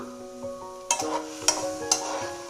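Onion, green chili, ginger-garlic paste and curry leaves sauté in a pan, with about four evenly spaced spatula scrapes over a soft sizzle and a steady musical tone in the background.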